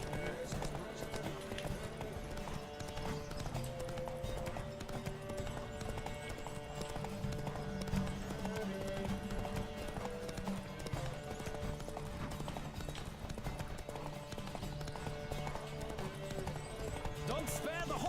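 Steady rhythmic hoofbeats of a galloping horse in The Witcher 3: Wild Hunt, continuous and fairly close, with music and other game sounds layered underneath.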